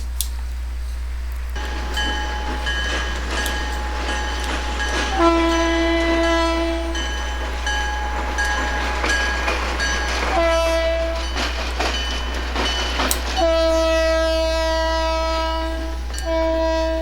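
A Conrail freight train rumbles steadily with a low engine drone, sounding its horn in several long blasts as it approaches a road crossing, loud and close, with wheel clatter underneath.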